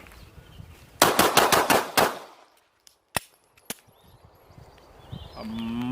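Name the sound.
Glock 43X pistol firing six rounds in a speed test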